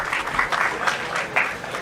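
An audience at an entrepreneurship and innovation conclave breaks into a brief round of applause to welcome a speaker, dense clapping sustained throughout at moderate loudness.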